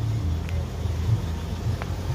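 Cars pulling up outside the Maharaja Hotel, a steady low engine rumble close by, with faint brief clicks over it.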